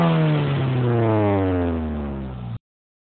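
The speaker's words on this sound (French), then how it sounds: "Allez, on a un petit coup d'accélérateur." Close, loud rev of a Ford Focus 1.6 16v petrol engine, the tone sliding steadily downward as the revs fall over about two and a half seconds before cutting off abruptly.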